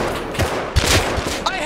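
Gunfire in the video game Rust, a burst of several sharp shots and thuds over about a second and a half, loud and close, mixed with excited shouting from players.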